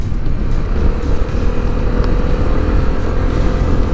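A QJ Motor Fortress 400 motorcycle accelerates on a highway lane with a loud, steady engine drone and road rumble close to the rider, with no talk.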